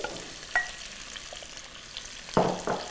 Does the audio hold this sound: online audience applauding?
no